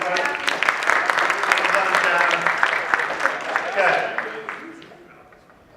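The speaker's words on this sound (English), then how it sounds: "Give Chad a round of applause, everybody." An evening seminar audience claps for Chad, broadband applause running steadily for about four seconds before tapering off, with voices speaking over it.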